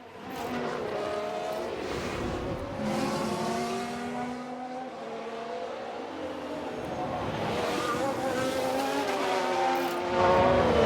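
Racing cars in the F1 Manager 2022 video game, a Haas locking up its brakes: a steady engine drone with shifting whining tones and tyre noise runs throughout, loud and continuous, with no clear separate crash.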